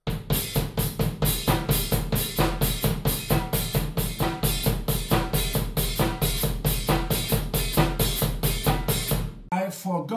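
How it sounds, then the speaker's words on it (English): A disco drum groove: the bass drum plays straight eighth notes under a hi-hat and snare pattern. The beat is loud, close and steady, with no voices, and it stops just before the end. "And with the hi-hat and snare drum pattern"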